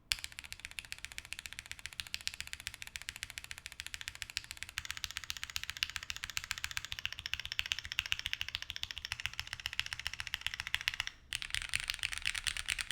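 Fast, steady typing on a modded CF81 mechanical keyboard with foam inside, producing a dense stream of quiet, muted key clicks up close with one brief pause near the end.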